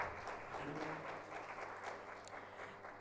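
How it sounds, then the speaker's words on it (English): Audience applause at a university entrepreneurship incubation programme, a short burst of scattered clapping from a room of students, fairly faint and fading over about three seconds. "Let's clap for him."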